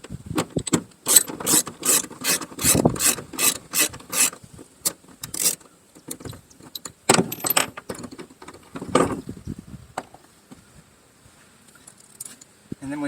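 A ratchet wrench backs out a 13 mm bolt on a Toyota Prius rear seat, giving a close run of rapid clicking strokes followed by slower, scattered ratcheting and scraping that fades to quiet.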